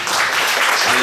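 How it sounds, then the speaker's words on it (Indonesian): A church congregation applauding together during a service: a dense, loud wash of clapping that fills the whole brief moment without letting up. "Tepuk tangan bagi Tuhan."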